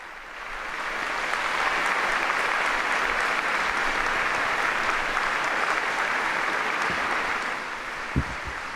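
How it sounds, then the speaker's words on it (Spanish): Faithful in the Paul VI audience hall applaud as the Pope enters for a general audience, a broad, sustained roar of many hands swelling and holding, then easing off with a single thump near the end. "acogido por los aplausos de los numerosos fieles presentes que hoy participan en esta audiencia general"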